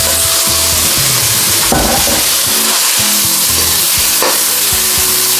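Beef strips stir-fry in a hot wok for chow fun noodles, a loud dense continuous sizzle with a couple of brief scraping tosses, close up and without talk.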